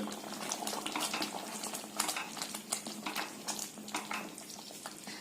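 A spoon stirs milky broken wheat payasam in a pot over a steady simmering hiss, with soft scraping and clinking strokes throughout and no one speaking.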